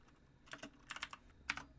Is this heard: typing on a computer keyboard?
yes